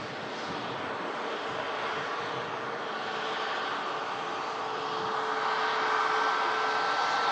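A Lufthansa airliner crossing the runway gives a steady, loud jet engine roar that holds without pause and grows slightly toward the end, with no voices over it.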